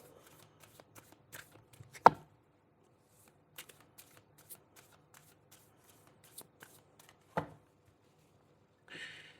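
Tarot cards being shuffled and handled: soft, sporadic riffling clicks and taps, with a couple of sharper snaps and a brief rustle at the end, quiet and close.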